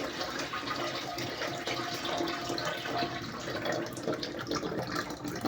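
Water runs steadily from an overflowing toilet tank with a faulty siphon, a continuous close rushing and trickling flow that fills the whole stretch without any talk.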